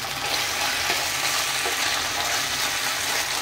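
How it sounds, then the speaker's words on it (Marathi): Sauce and tomato paste sizzle in a hot pan for soybean chilli, a close, continuous crackling hiss with faint stirring scrapes. "थोडा जिरा सॉस टाकायचा, आणि थोडासा टोमॅटो पेस्ट टाकायचा."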